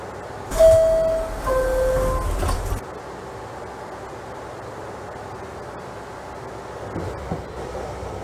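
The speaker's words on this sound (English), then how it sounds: "This is a Brooklyn Bridge bound 6 local train." Simulated NYCT 6 local subway train in Trainz Simulator 2012, a brief loud burst of chimes and door or brake tones followed by a steady low rolling hiss of the train running.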